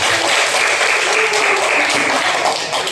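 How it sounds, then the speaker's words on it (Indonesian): Enthusiastic clapping from a class of students filling a classroom, sustained and fairly loud for the whole stretch. "Oke, tepuk tangan kita semua."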